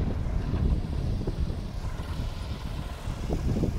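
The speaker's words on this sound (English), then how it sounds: "Gusts are getting up to 40 miles an hour" Strong, gusty wind up to 40 miles an hour roars and buffets steadily, with rumbling low-end blasts that swell and ease throughout, no voices.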